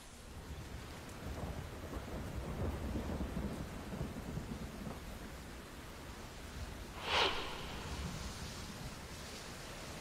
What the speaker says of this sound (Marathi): मुंबईतल्या उपनगरात सुद्धा मुसळधार पाऊस पडतोय